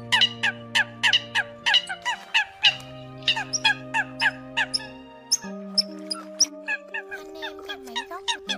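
A recording of Eurasian coot calls plays as a long series of loud, honking notes repeated in quick succession, close and insistent, with a steady droning tone held underneath the whole time.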